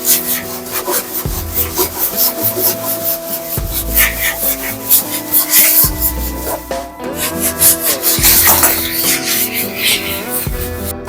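Abrasive sanding on a fiberglass pool panel ahead of gasket fitting, a steady close rubbing hiss running throughout in uneven strokes with no talk.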